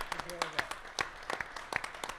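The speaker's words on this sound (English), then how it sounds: "We'll have a round of applause" Scattered applause from the audience at a boxing press conference, a handful of sharp claps in loose irregular rhythm, fairly sparse and moderately close, with a voice speaking over them.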